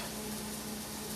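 Sunchokes sizzling in a hot pan while being stirred, producing a dense, even hiss that holds steady without pause for about a second, close by.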